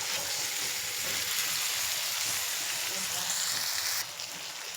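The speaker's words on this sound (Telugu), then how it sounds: "ఇప్పుడు ఇందులో మనం ఈ బాయిల్ చేసిన చికెన్ వేసేసుకుని అది కూడా కొంచెం ఆయిల్లో మగ్గనిద్దాం" Pre-boiled chicken pieces fry in hot oil for a restaurant-style chicken fry, making a loud, dense, continuous sizzle close by that drops slightly in level near the end.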